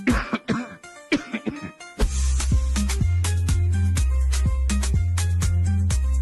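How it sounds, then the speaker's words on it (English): A few harsh coughs ring out, followed by rhythmic music with a steady beat. "Got a stubborn cough that just won't quit?"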